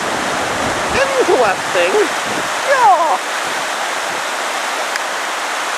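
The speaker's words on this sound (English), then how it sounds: "the water is really banking up as it goes around that corner there" The flooded Congburn River near Chester-le-Street rushes around a bend through woods, a constant loud roar of water filling the scene, with a man briefly exclaiming over it.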